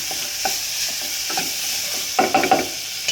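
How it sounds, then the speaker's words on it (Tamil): Boiled potato masala being stirred with salt in a pan, a soft steady sizzle under several distinct scraping strokes of a spoon, a cluster of them toward the end. "இப்போ தேவையான அளவு சால்ட்டு போட்டு இதை மிக்ஸ் பண்ணிக்கோங்க."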